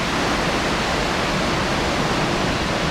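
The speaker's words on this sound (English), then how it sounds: "these are the rapids coming down from it" Rushing river rapids below a waterfall in Iceland pour in a steady, dense roar that fills the whole stretch evenly, loud and close with no pauses or talk.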